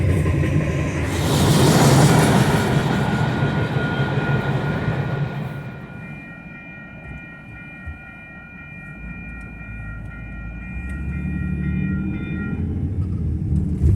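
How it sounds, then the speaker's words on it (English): A train passes close by a road in Colorado, a loud rumble and clatter that then fades, leaving a sustained horn-like tone over low road noise, without speech. "we just got on the road and the train came through"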